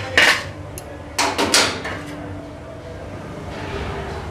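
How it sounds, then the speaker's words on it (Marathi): A metal lid lifts off a pan of simmering soya chunks curry with a few sharp clanks and clatters close by, then a quieter kitchen hum. "आता झाकण काढून पाहूया आपण."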